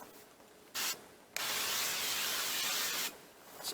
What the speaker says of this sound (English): Avocado oil spray.